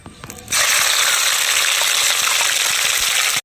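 A paste of ginger, garlic, onion and green chili hits hot oil for a village-style chicken biryani, bursting into a loud, dense, continuous sizzle after a few quieter stirring knocks.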